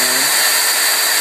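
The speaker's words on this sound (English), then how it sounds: "And just drill through. Keep pushing." A power drill runs continuously at high speed, boring through a stack of plastic cups, a loud steady whine close up with no talking over it.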